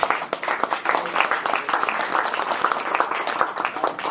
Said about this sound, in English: Let's give a round of applause to everybody here.